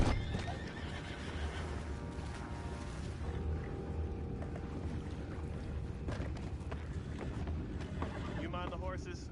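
Horses in Red Dead Redemption 2 whinny and neigh over a steady clip-clop of hooves, close and fairly loud, with ambient game noise and a voice speaking at moments.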